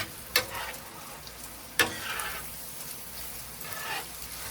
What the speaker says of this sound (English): Just keep mixing this around. We want to cook it a little bit more.